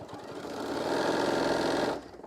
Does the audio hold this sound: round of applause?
no